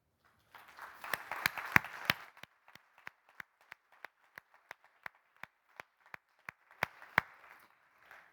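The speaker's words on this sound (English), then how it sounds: "it's a good thing we gave her this round of applause to thank her for the wonderful talk" An audience applauds after a talk, a burst of dense clapping that thins into a sparse trail of single claps, and a short flurry returns near the end.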